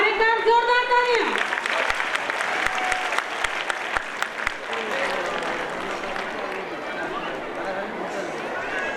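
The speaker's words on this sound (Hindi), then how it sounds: "और एक बार जोरदार तालियां।" Loud applause from an audience at a school annual gathering breaks out after a short spoken line and carries on as dense, continuous clapping, easing slightly toward the end.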